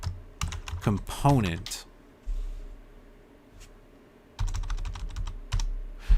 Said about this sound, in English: this time we're going to type in destroy